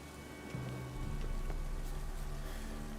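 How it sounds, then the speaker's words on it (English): Steady rain with wind in The Witcher 3 video game, a continuous wash of patter and rushing air that swells slightly after the first second and holds at an even level throughout. "Looks like rain. Wind's howling. Looks like rain."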